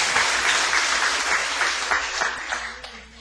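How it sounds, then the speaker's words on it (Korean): A church congregation claps together at a New Year's Eve service in a loud, rhythmic burst of applause that slowly eases off, with a few sharper claps near the end. "우리 하나님 앞에 영광의 박수 올려드리겠습니다"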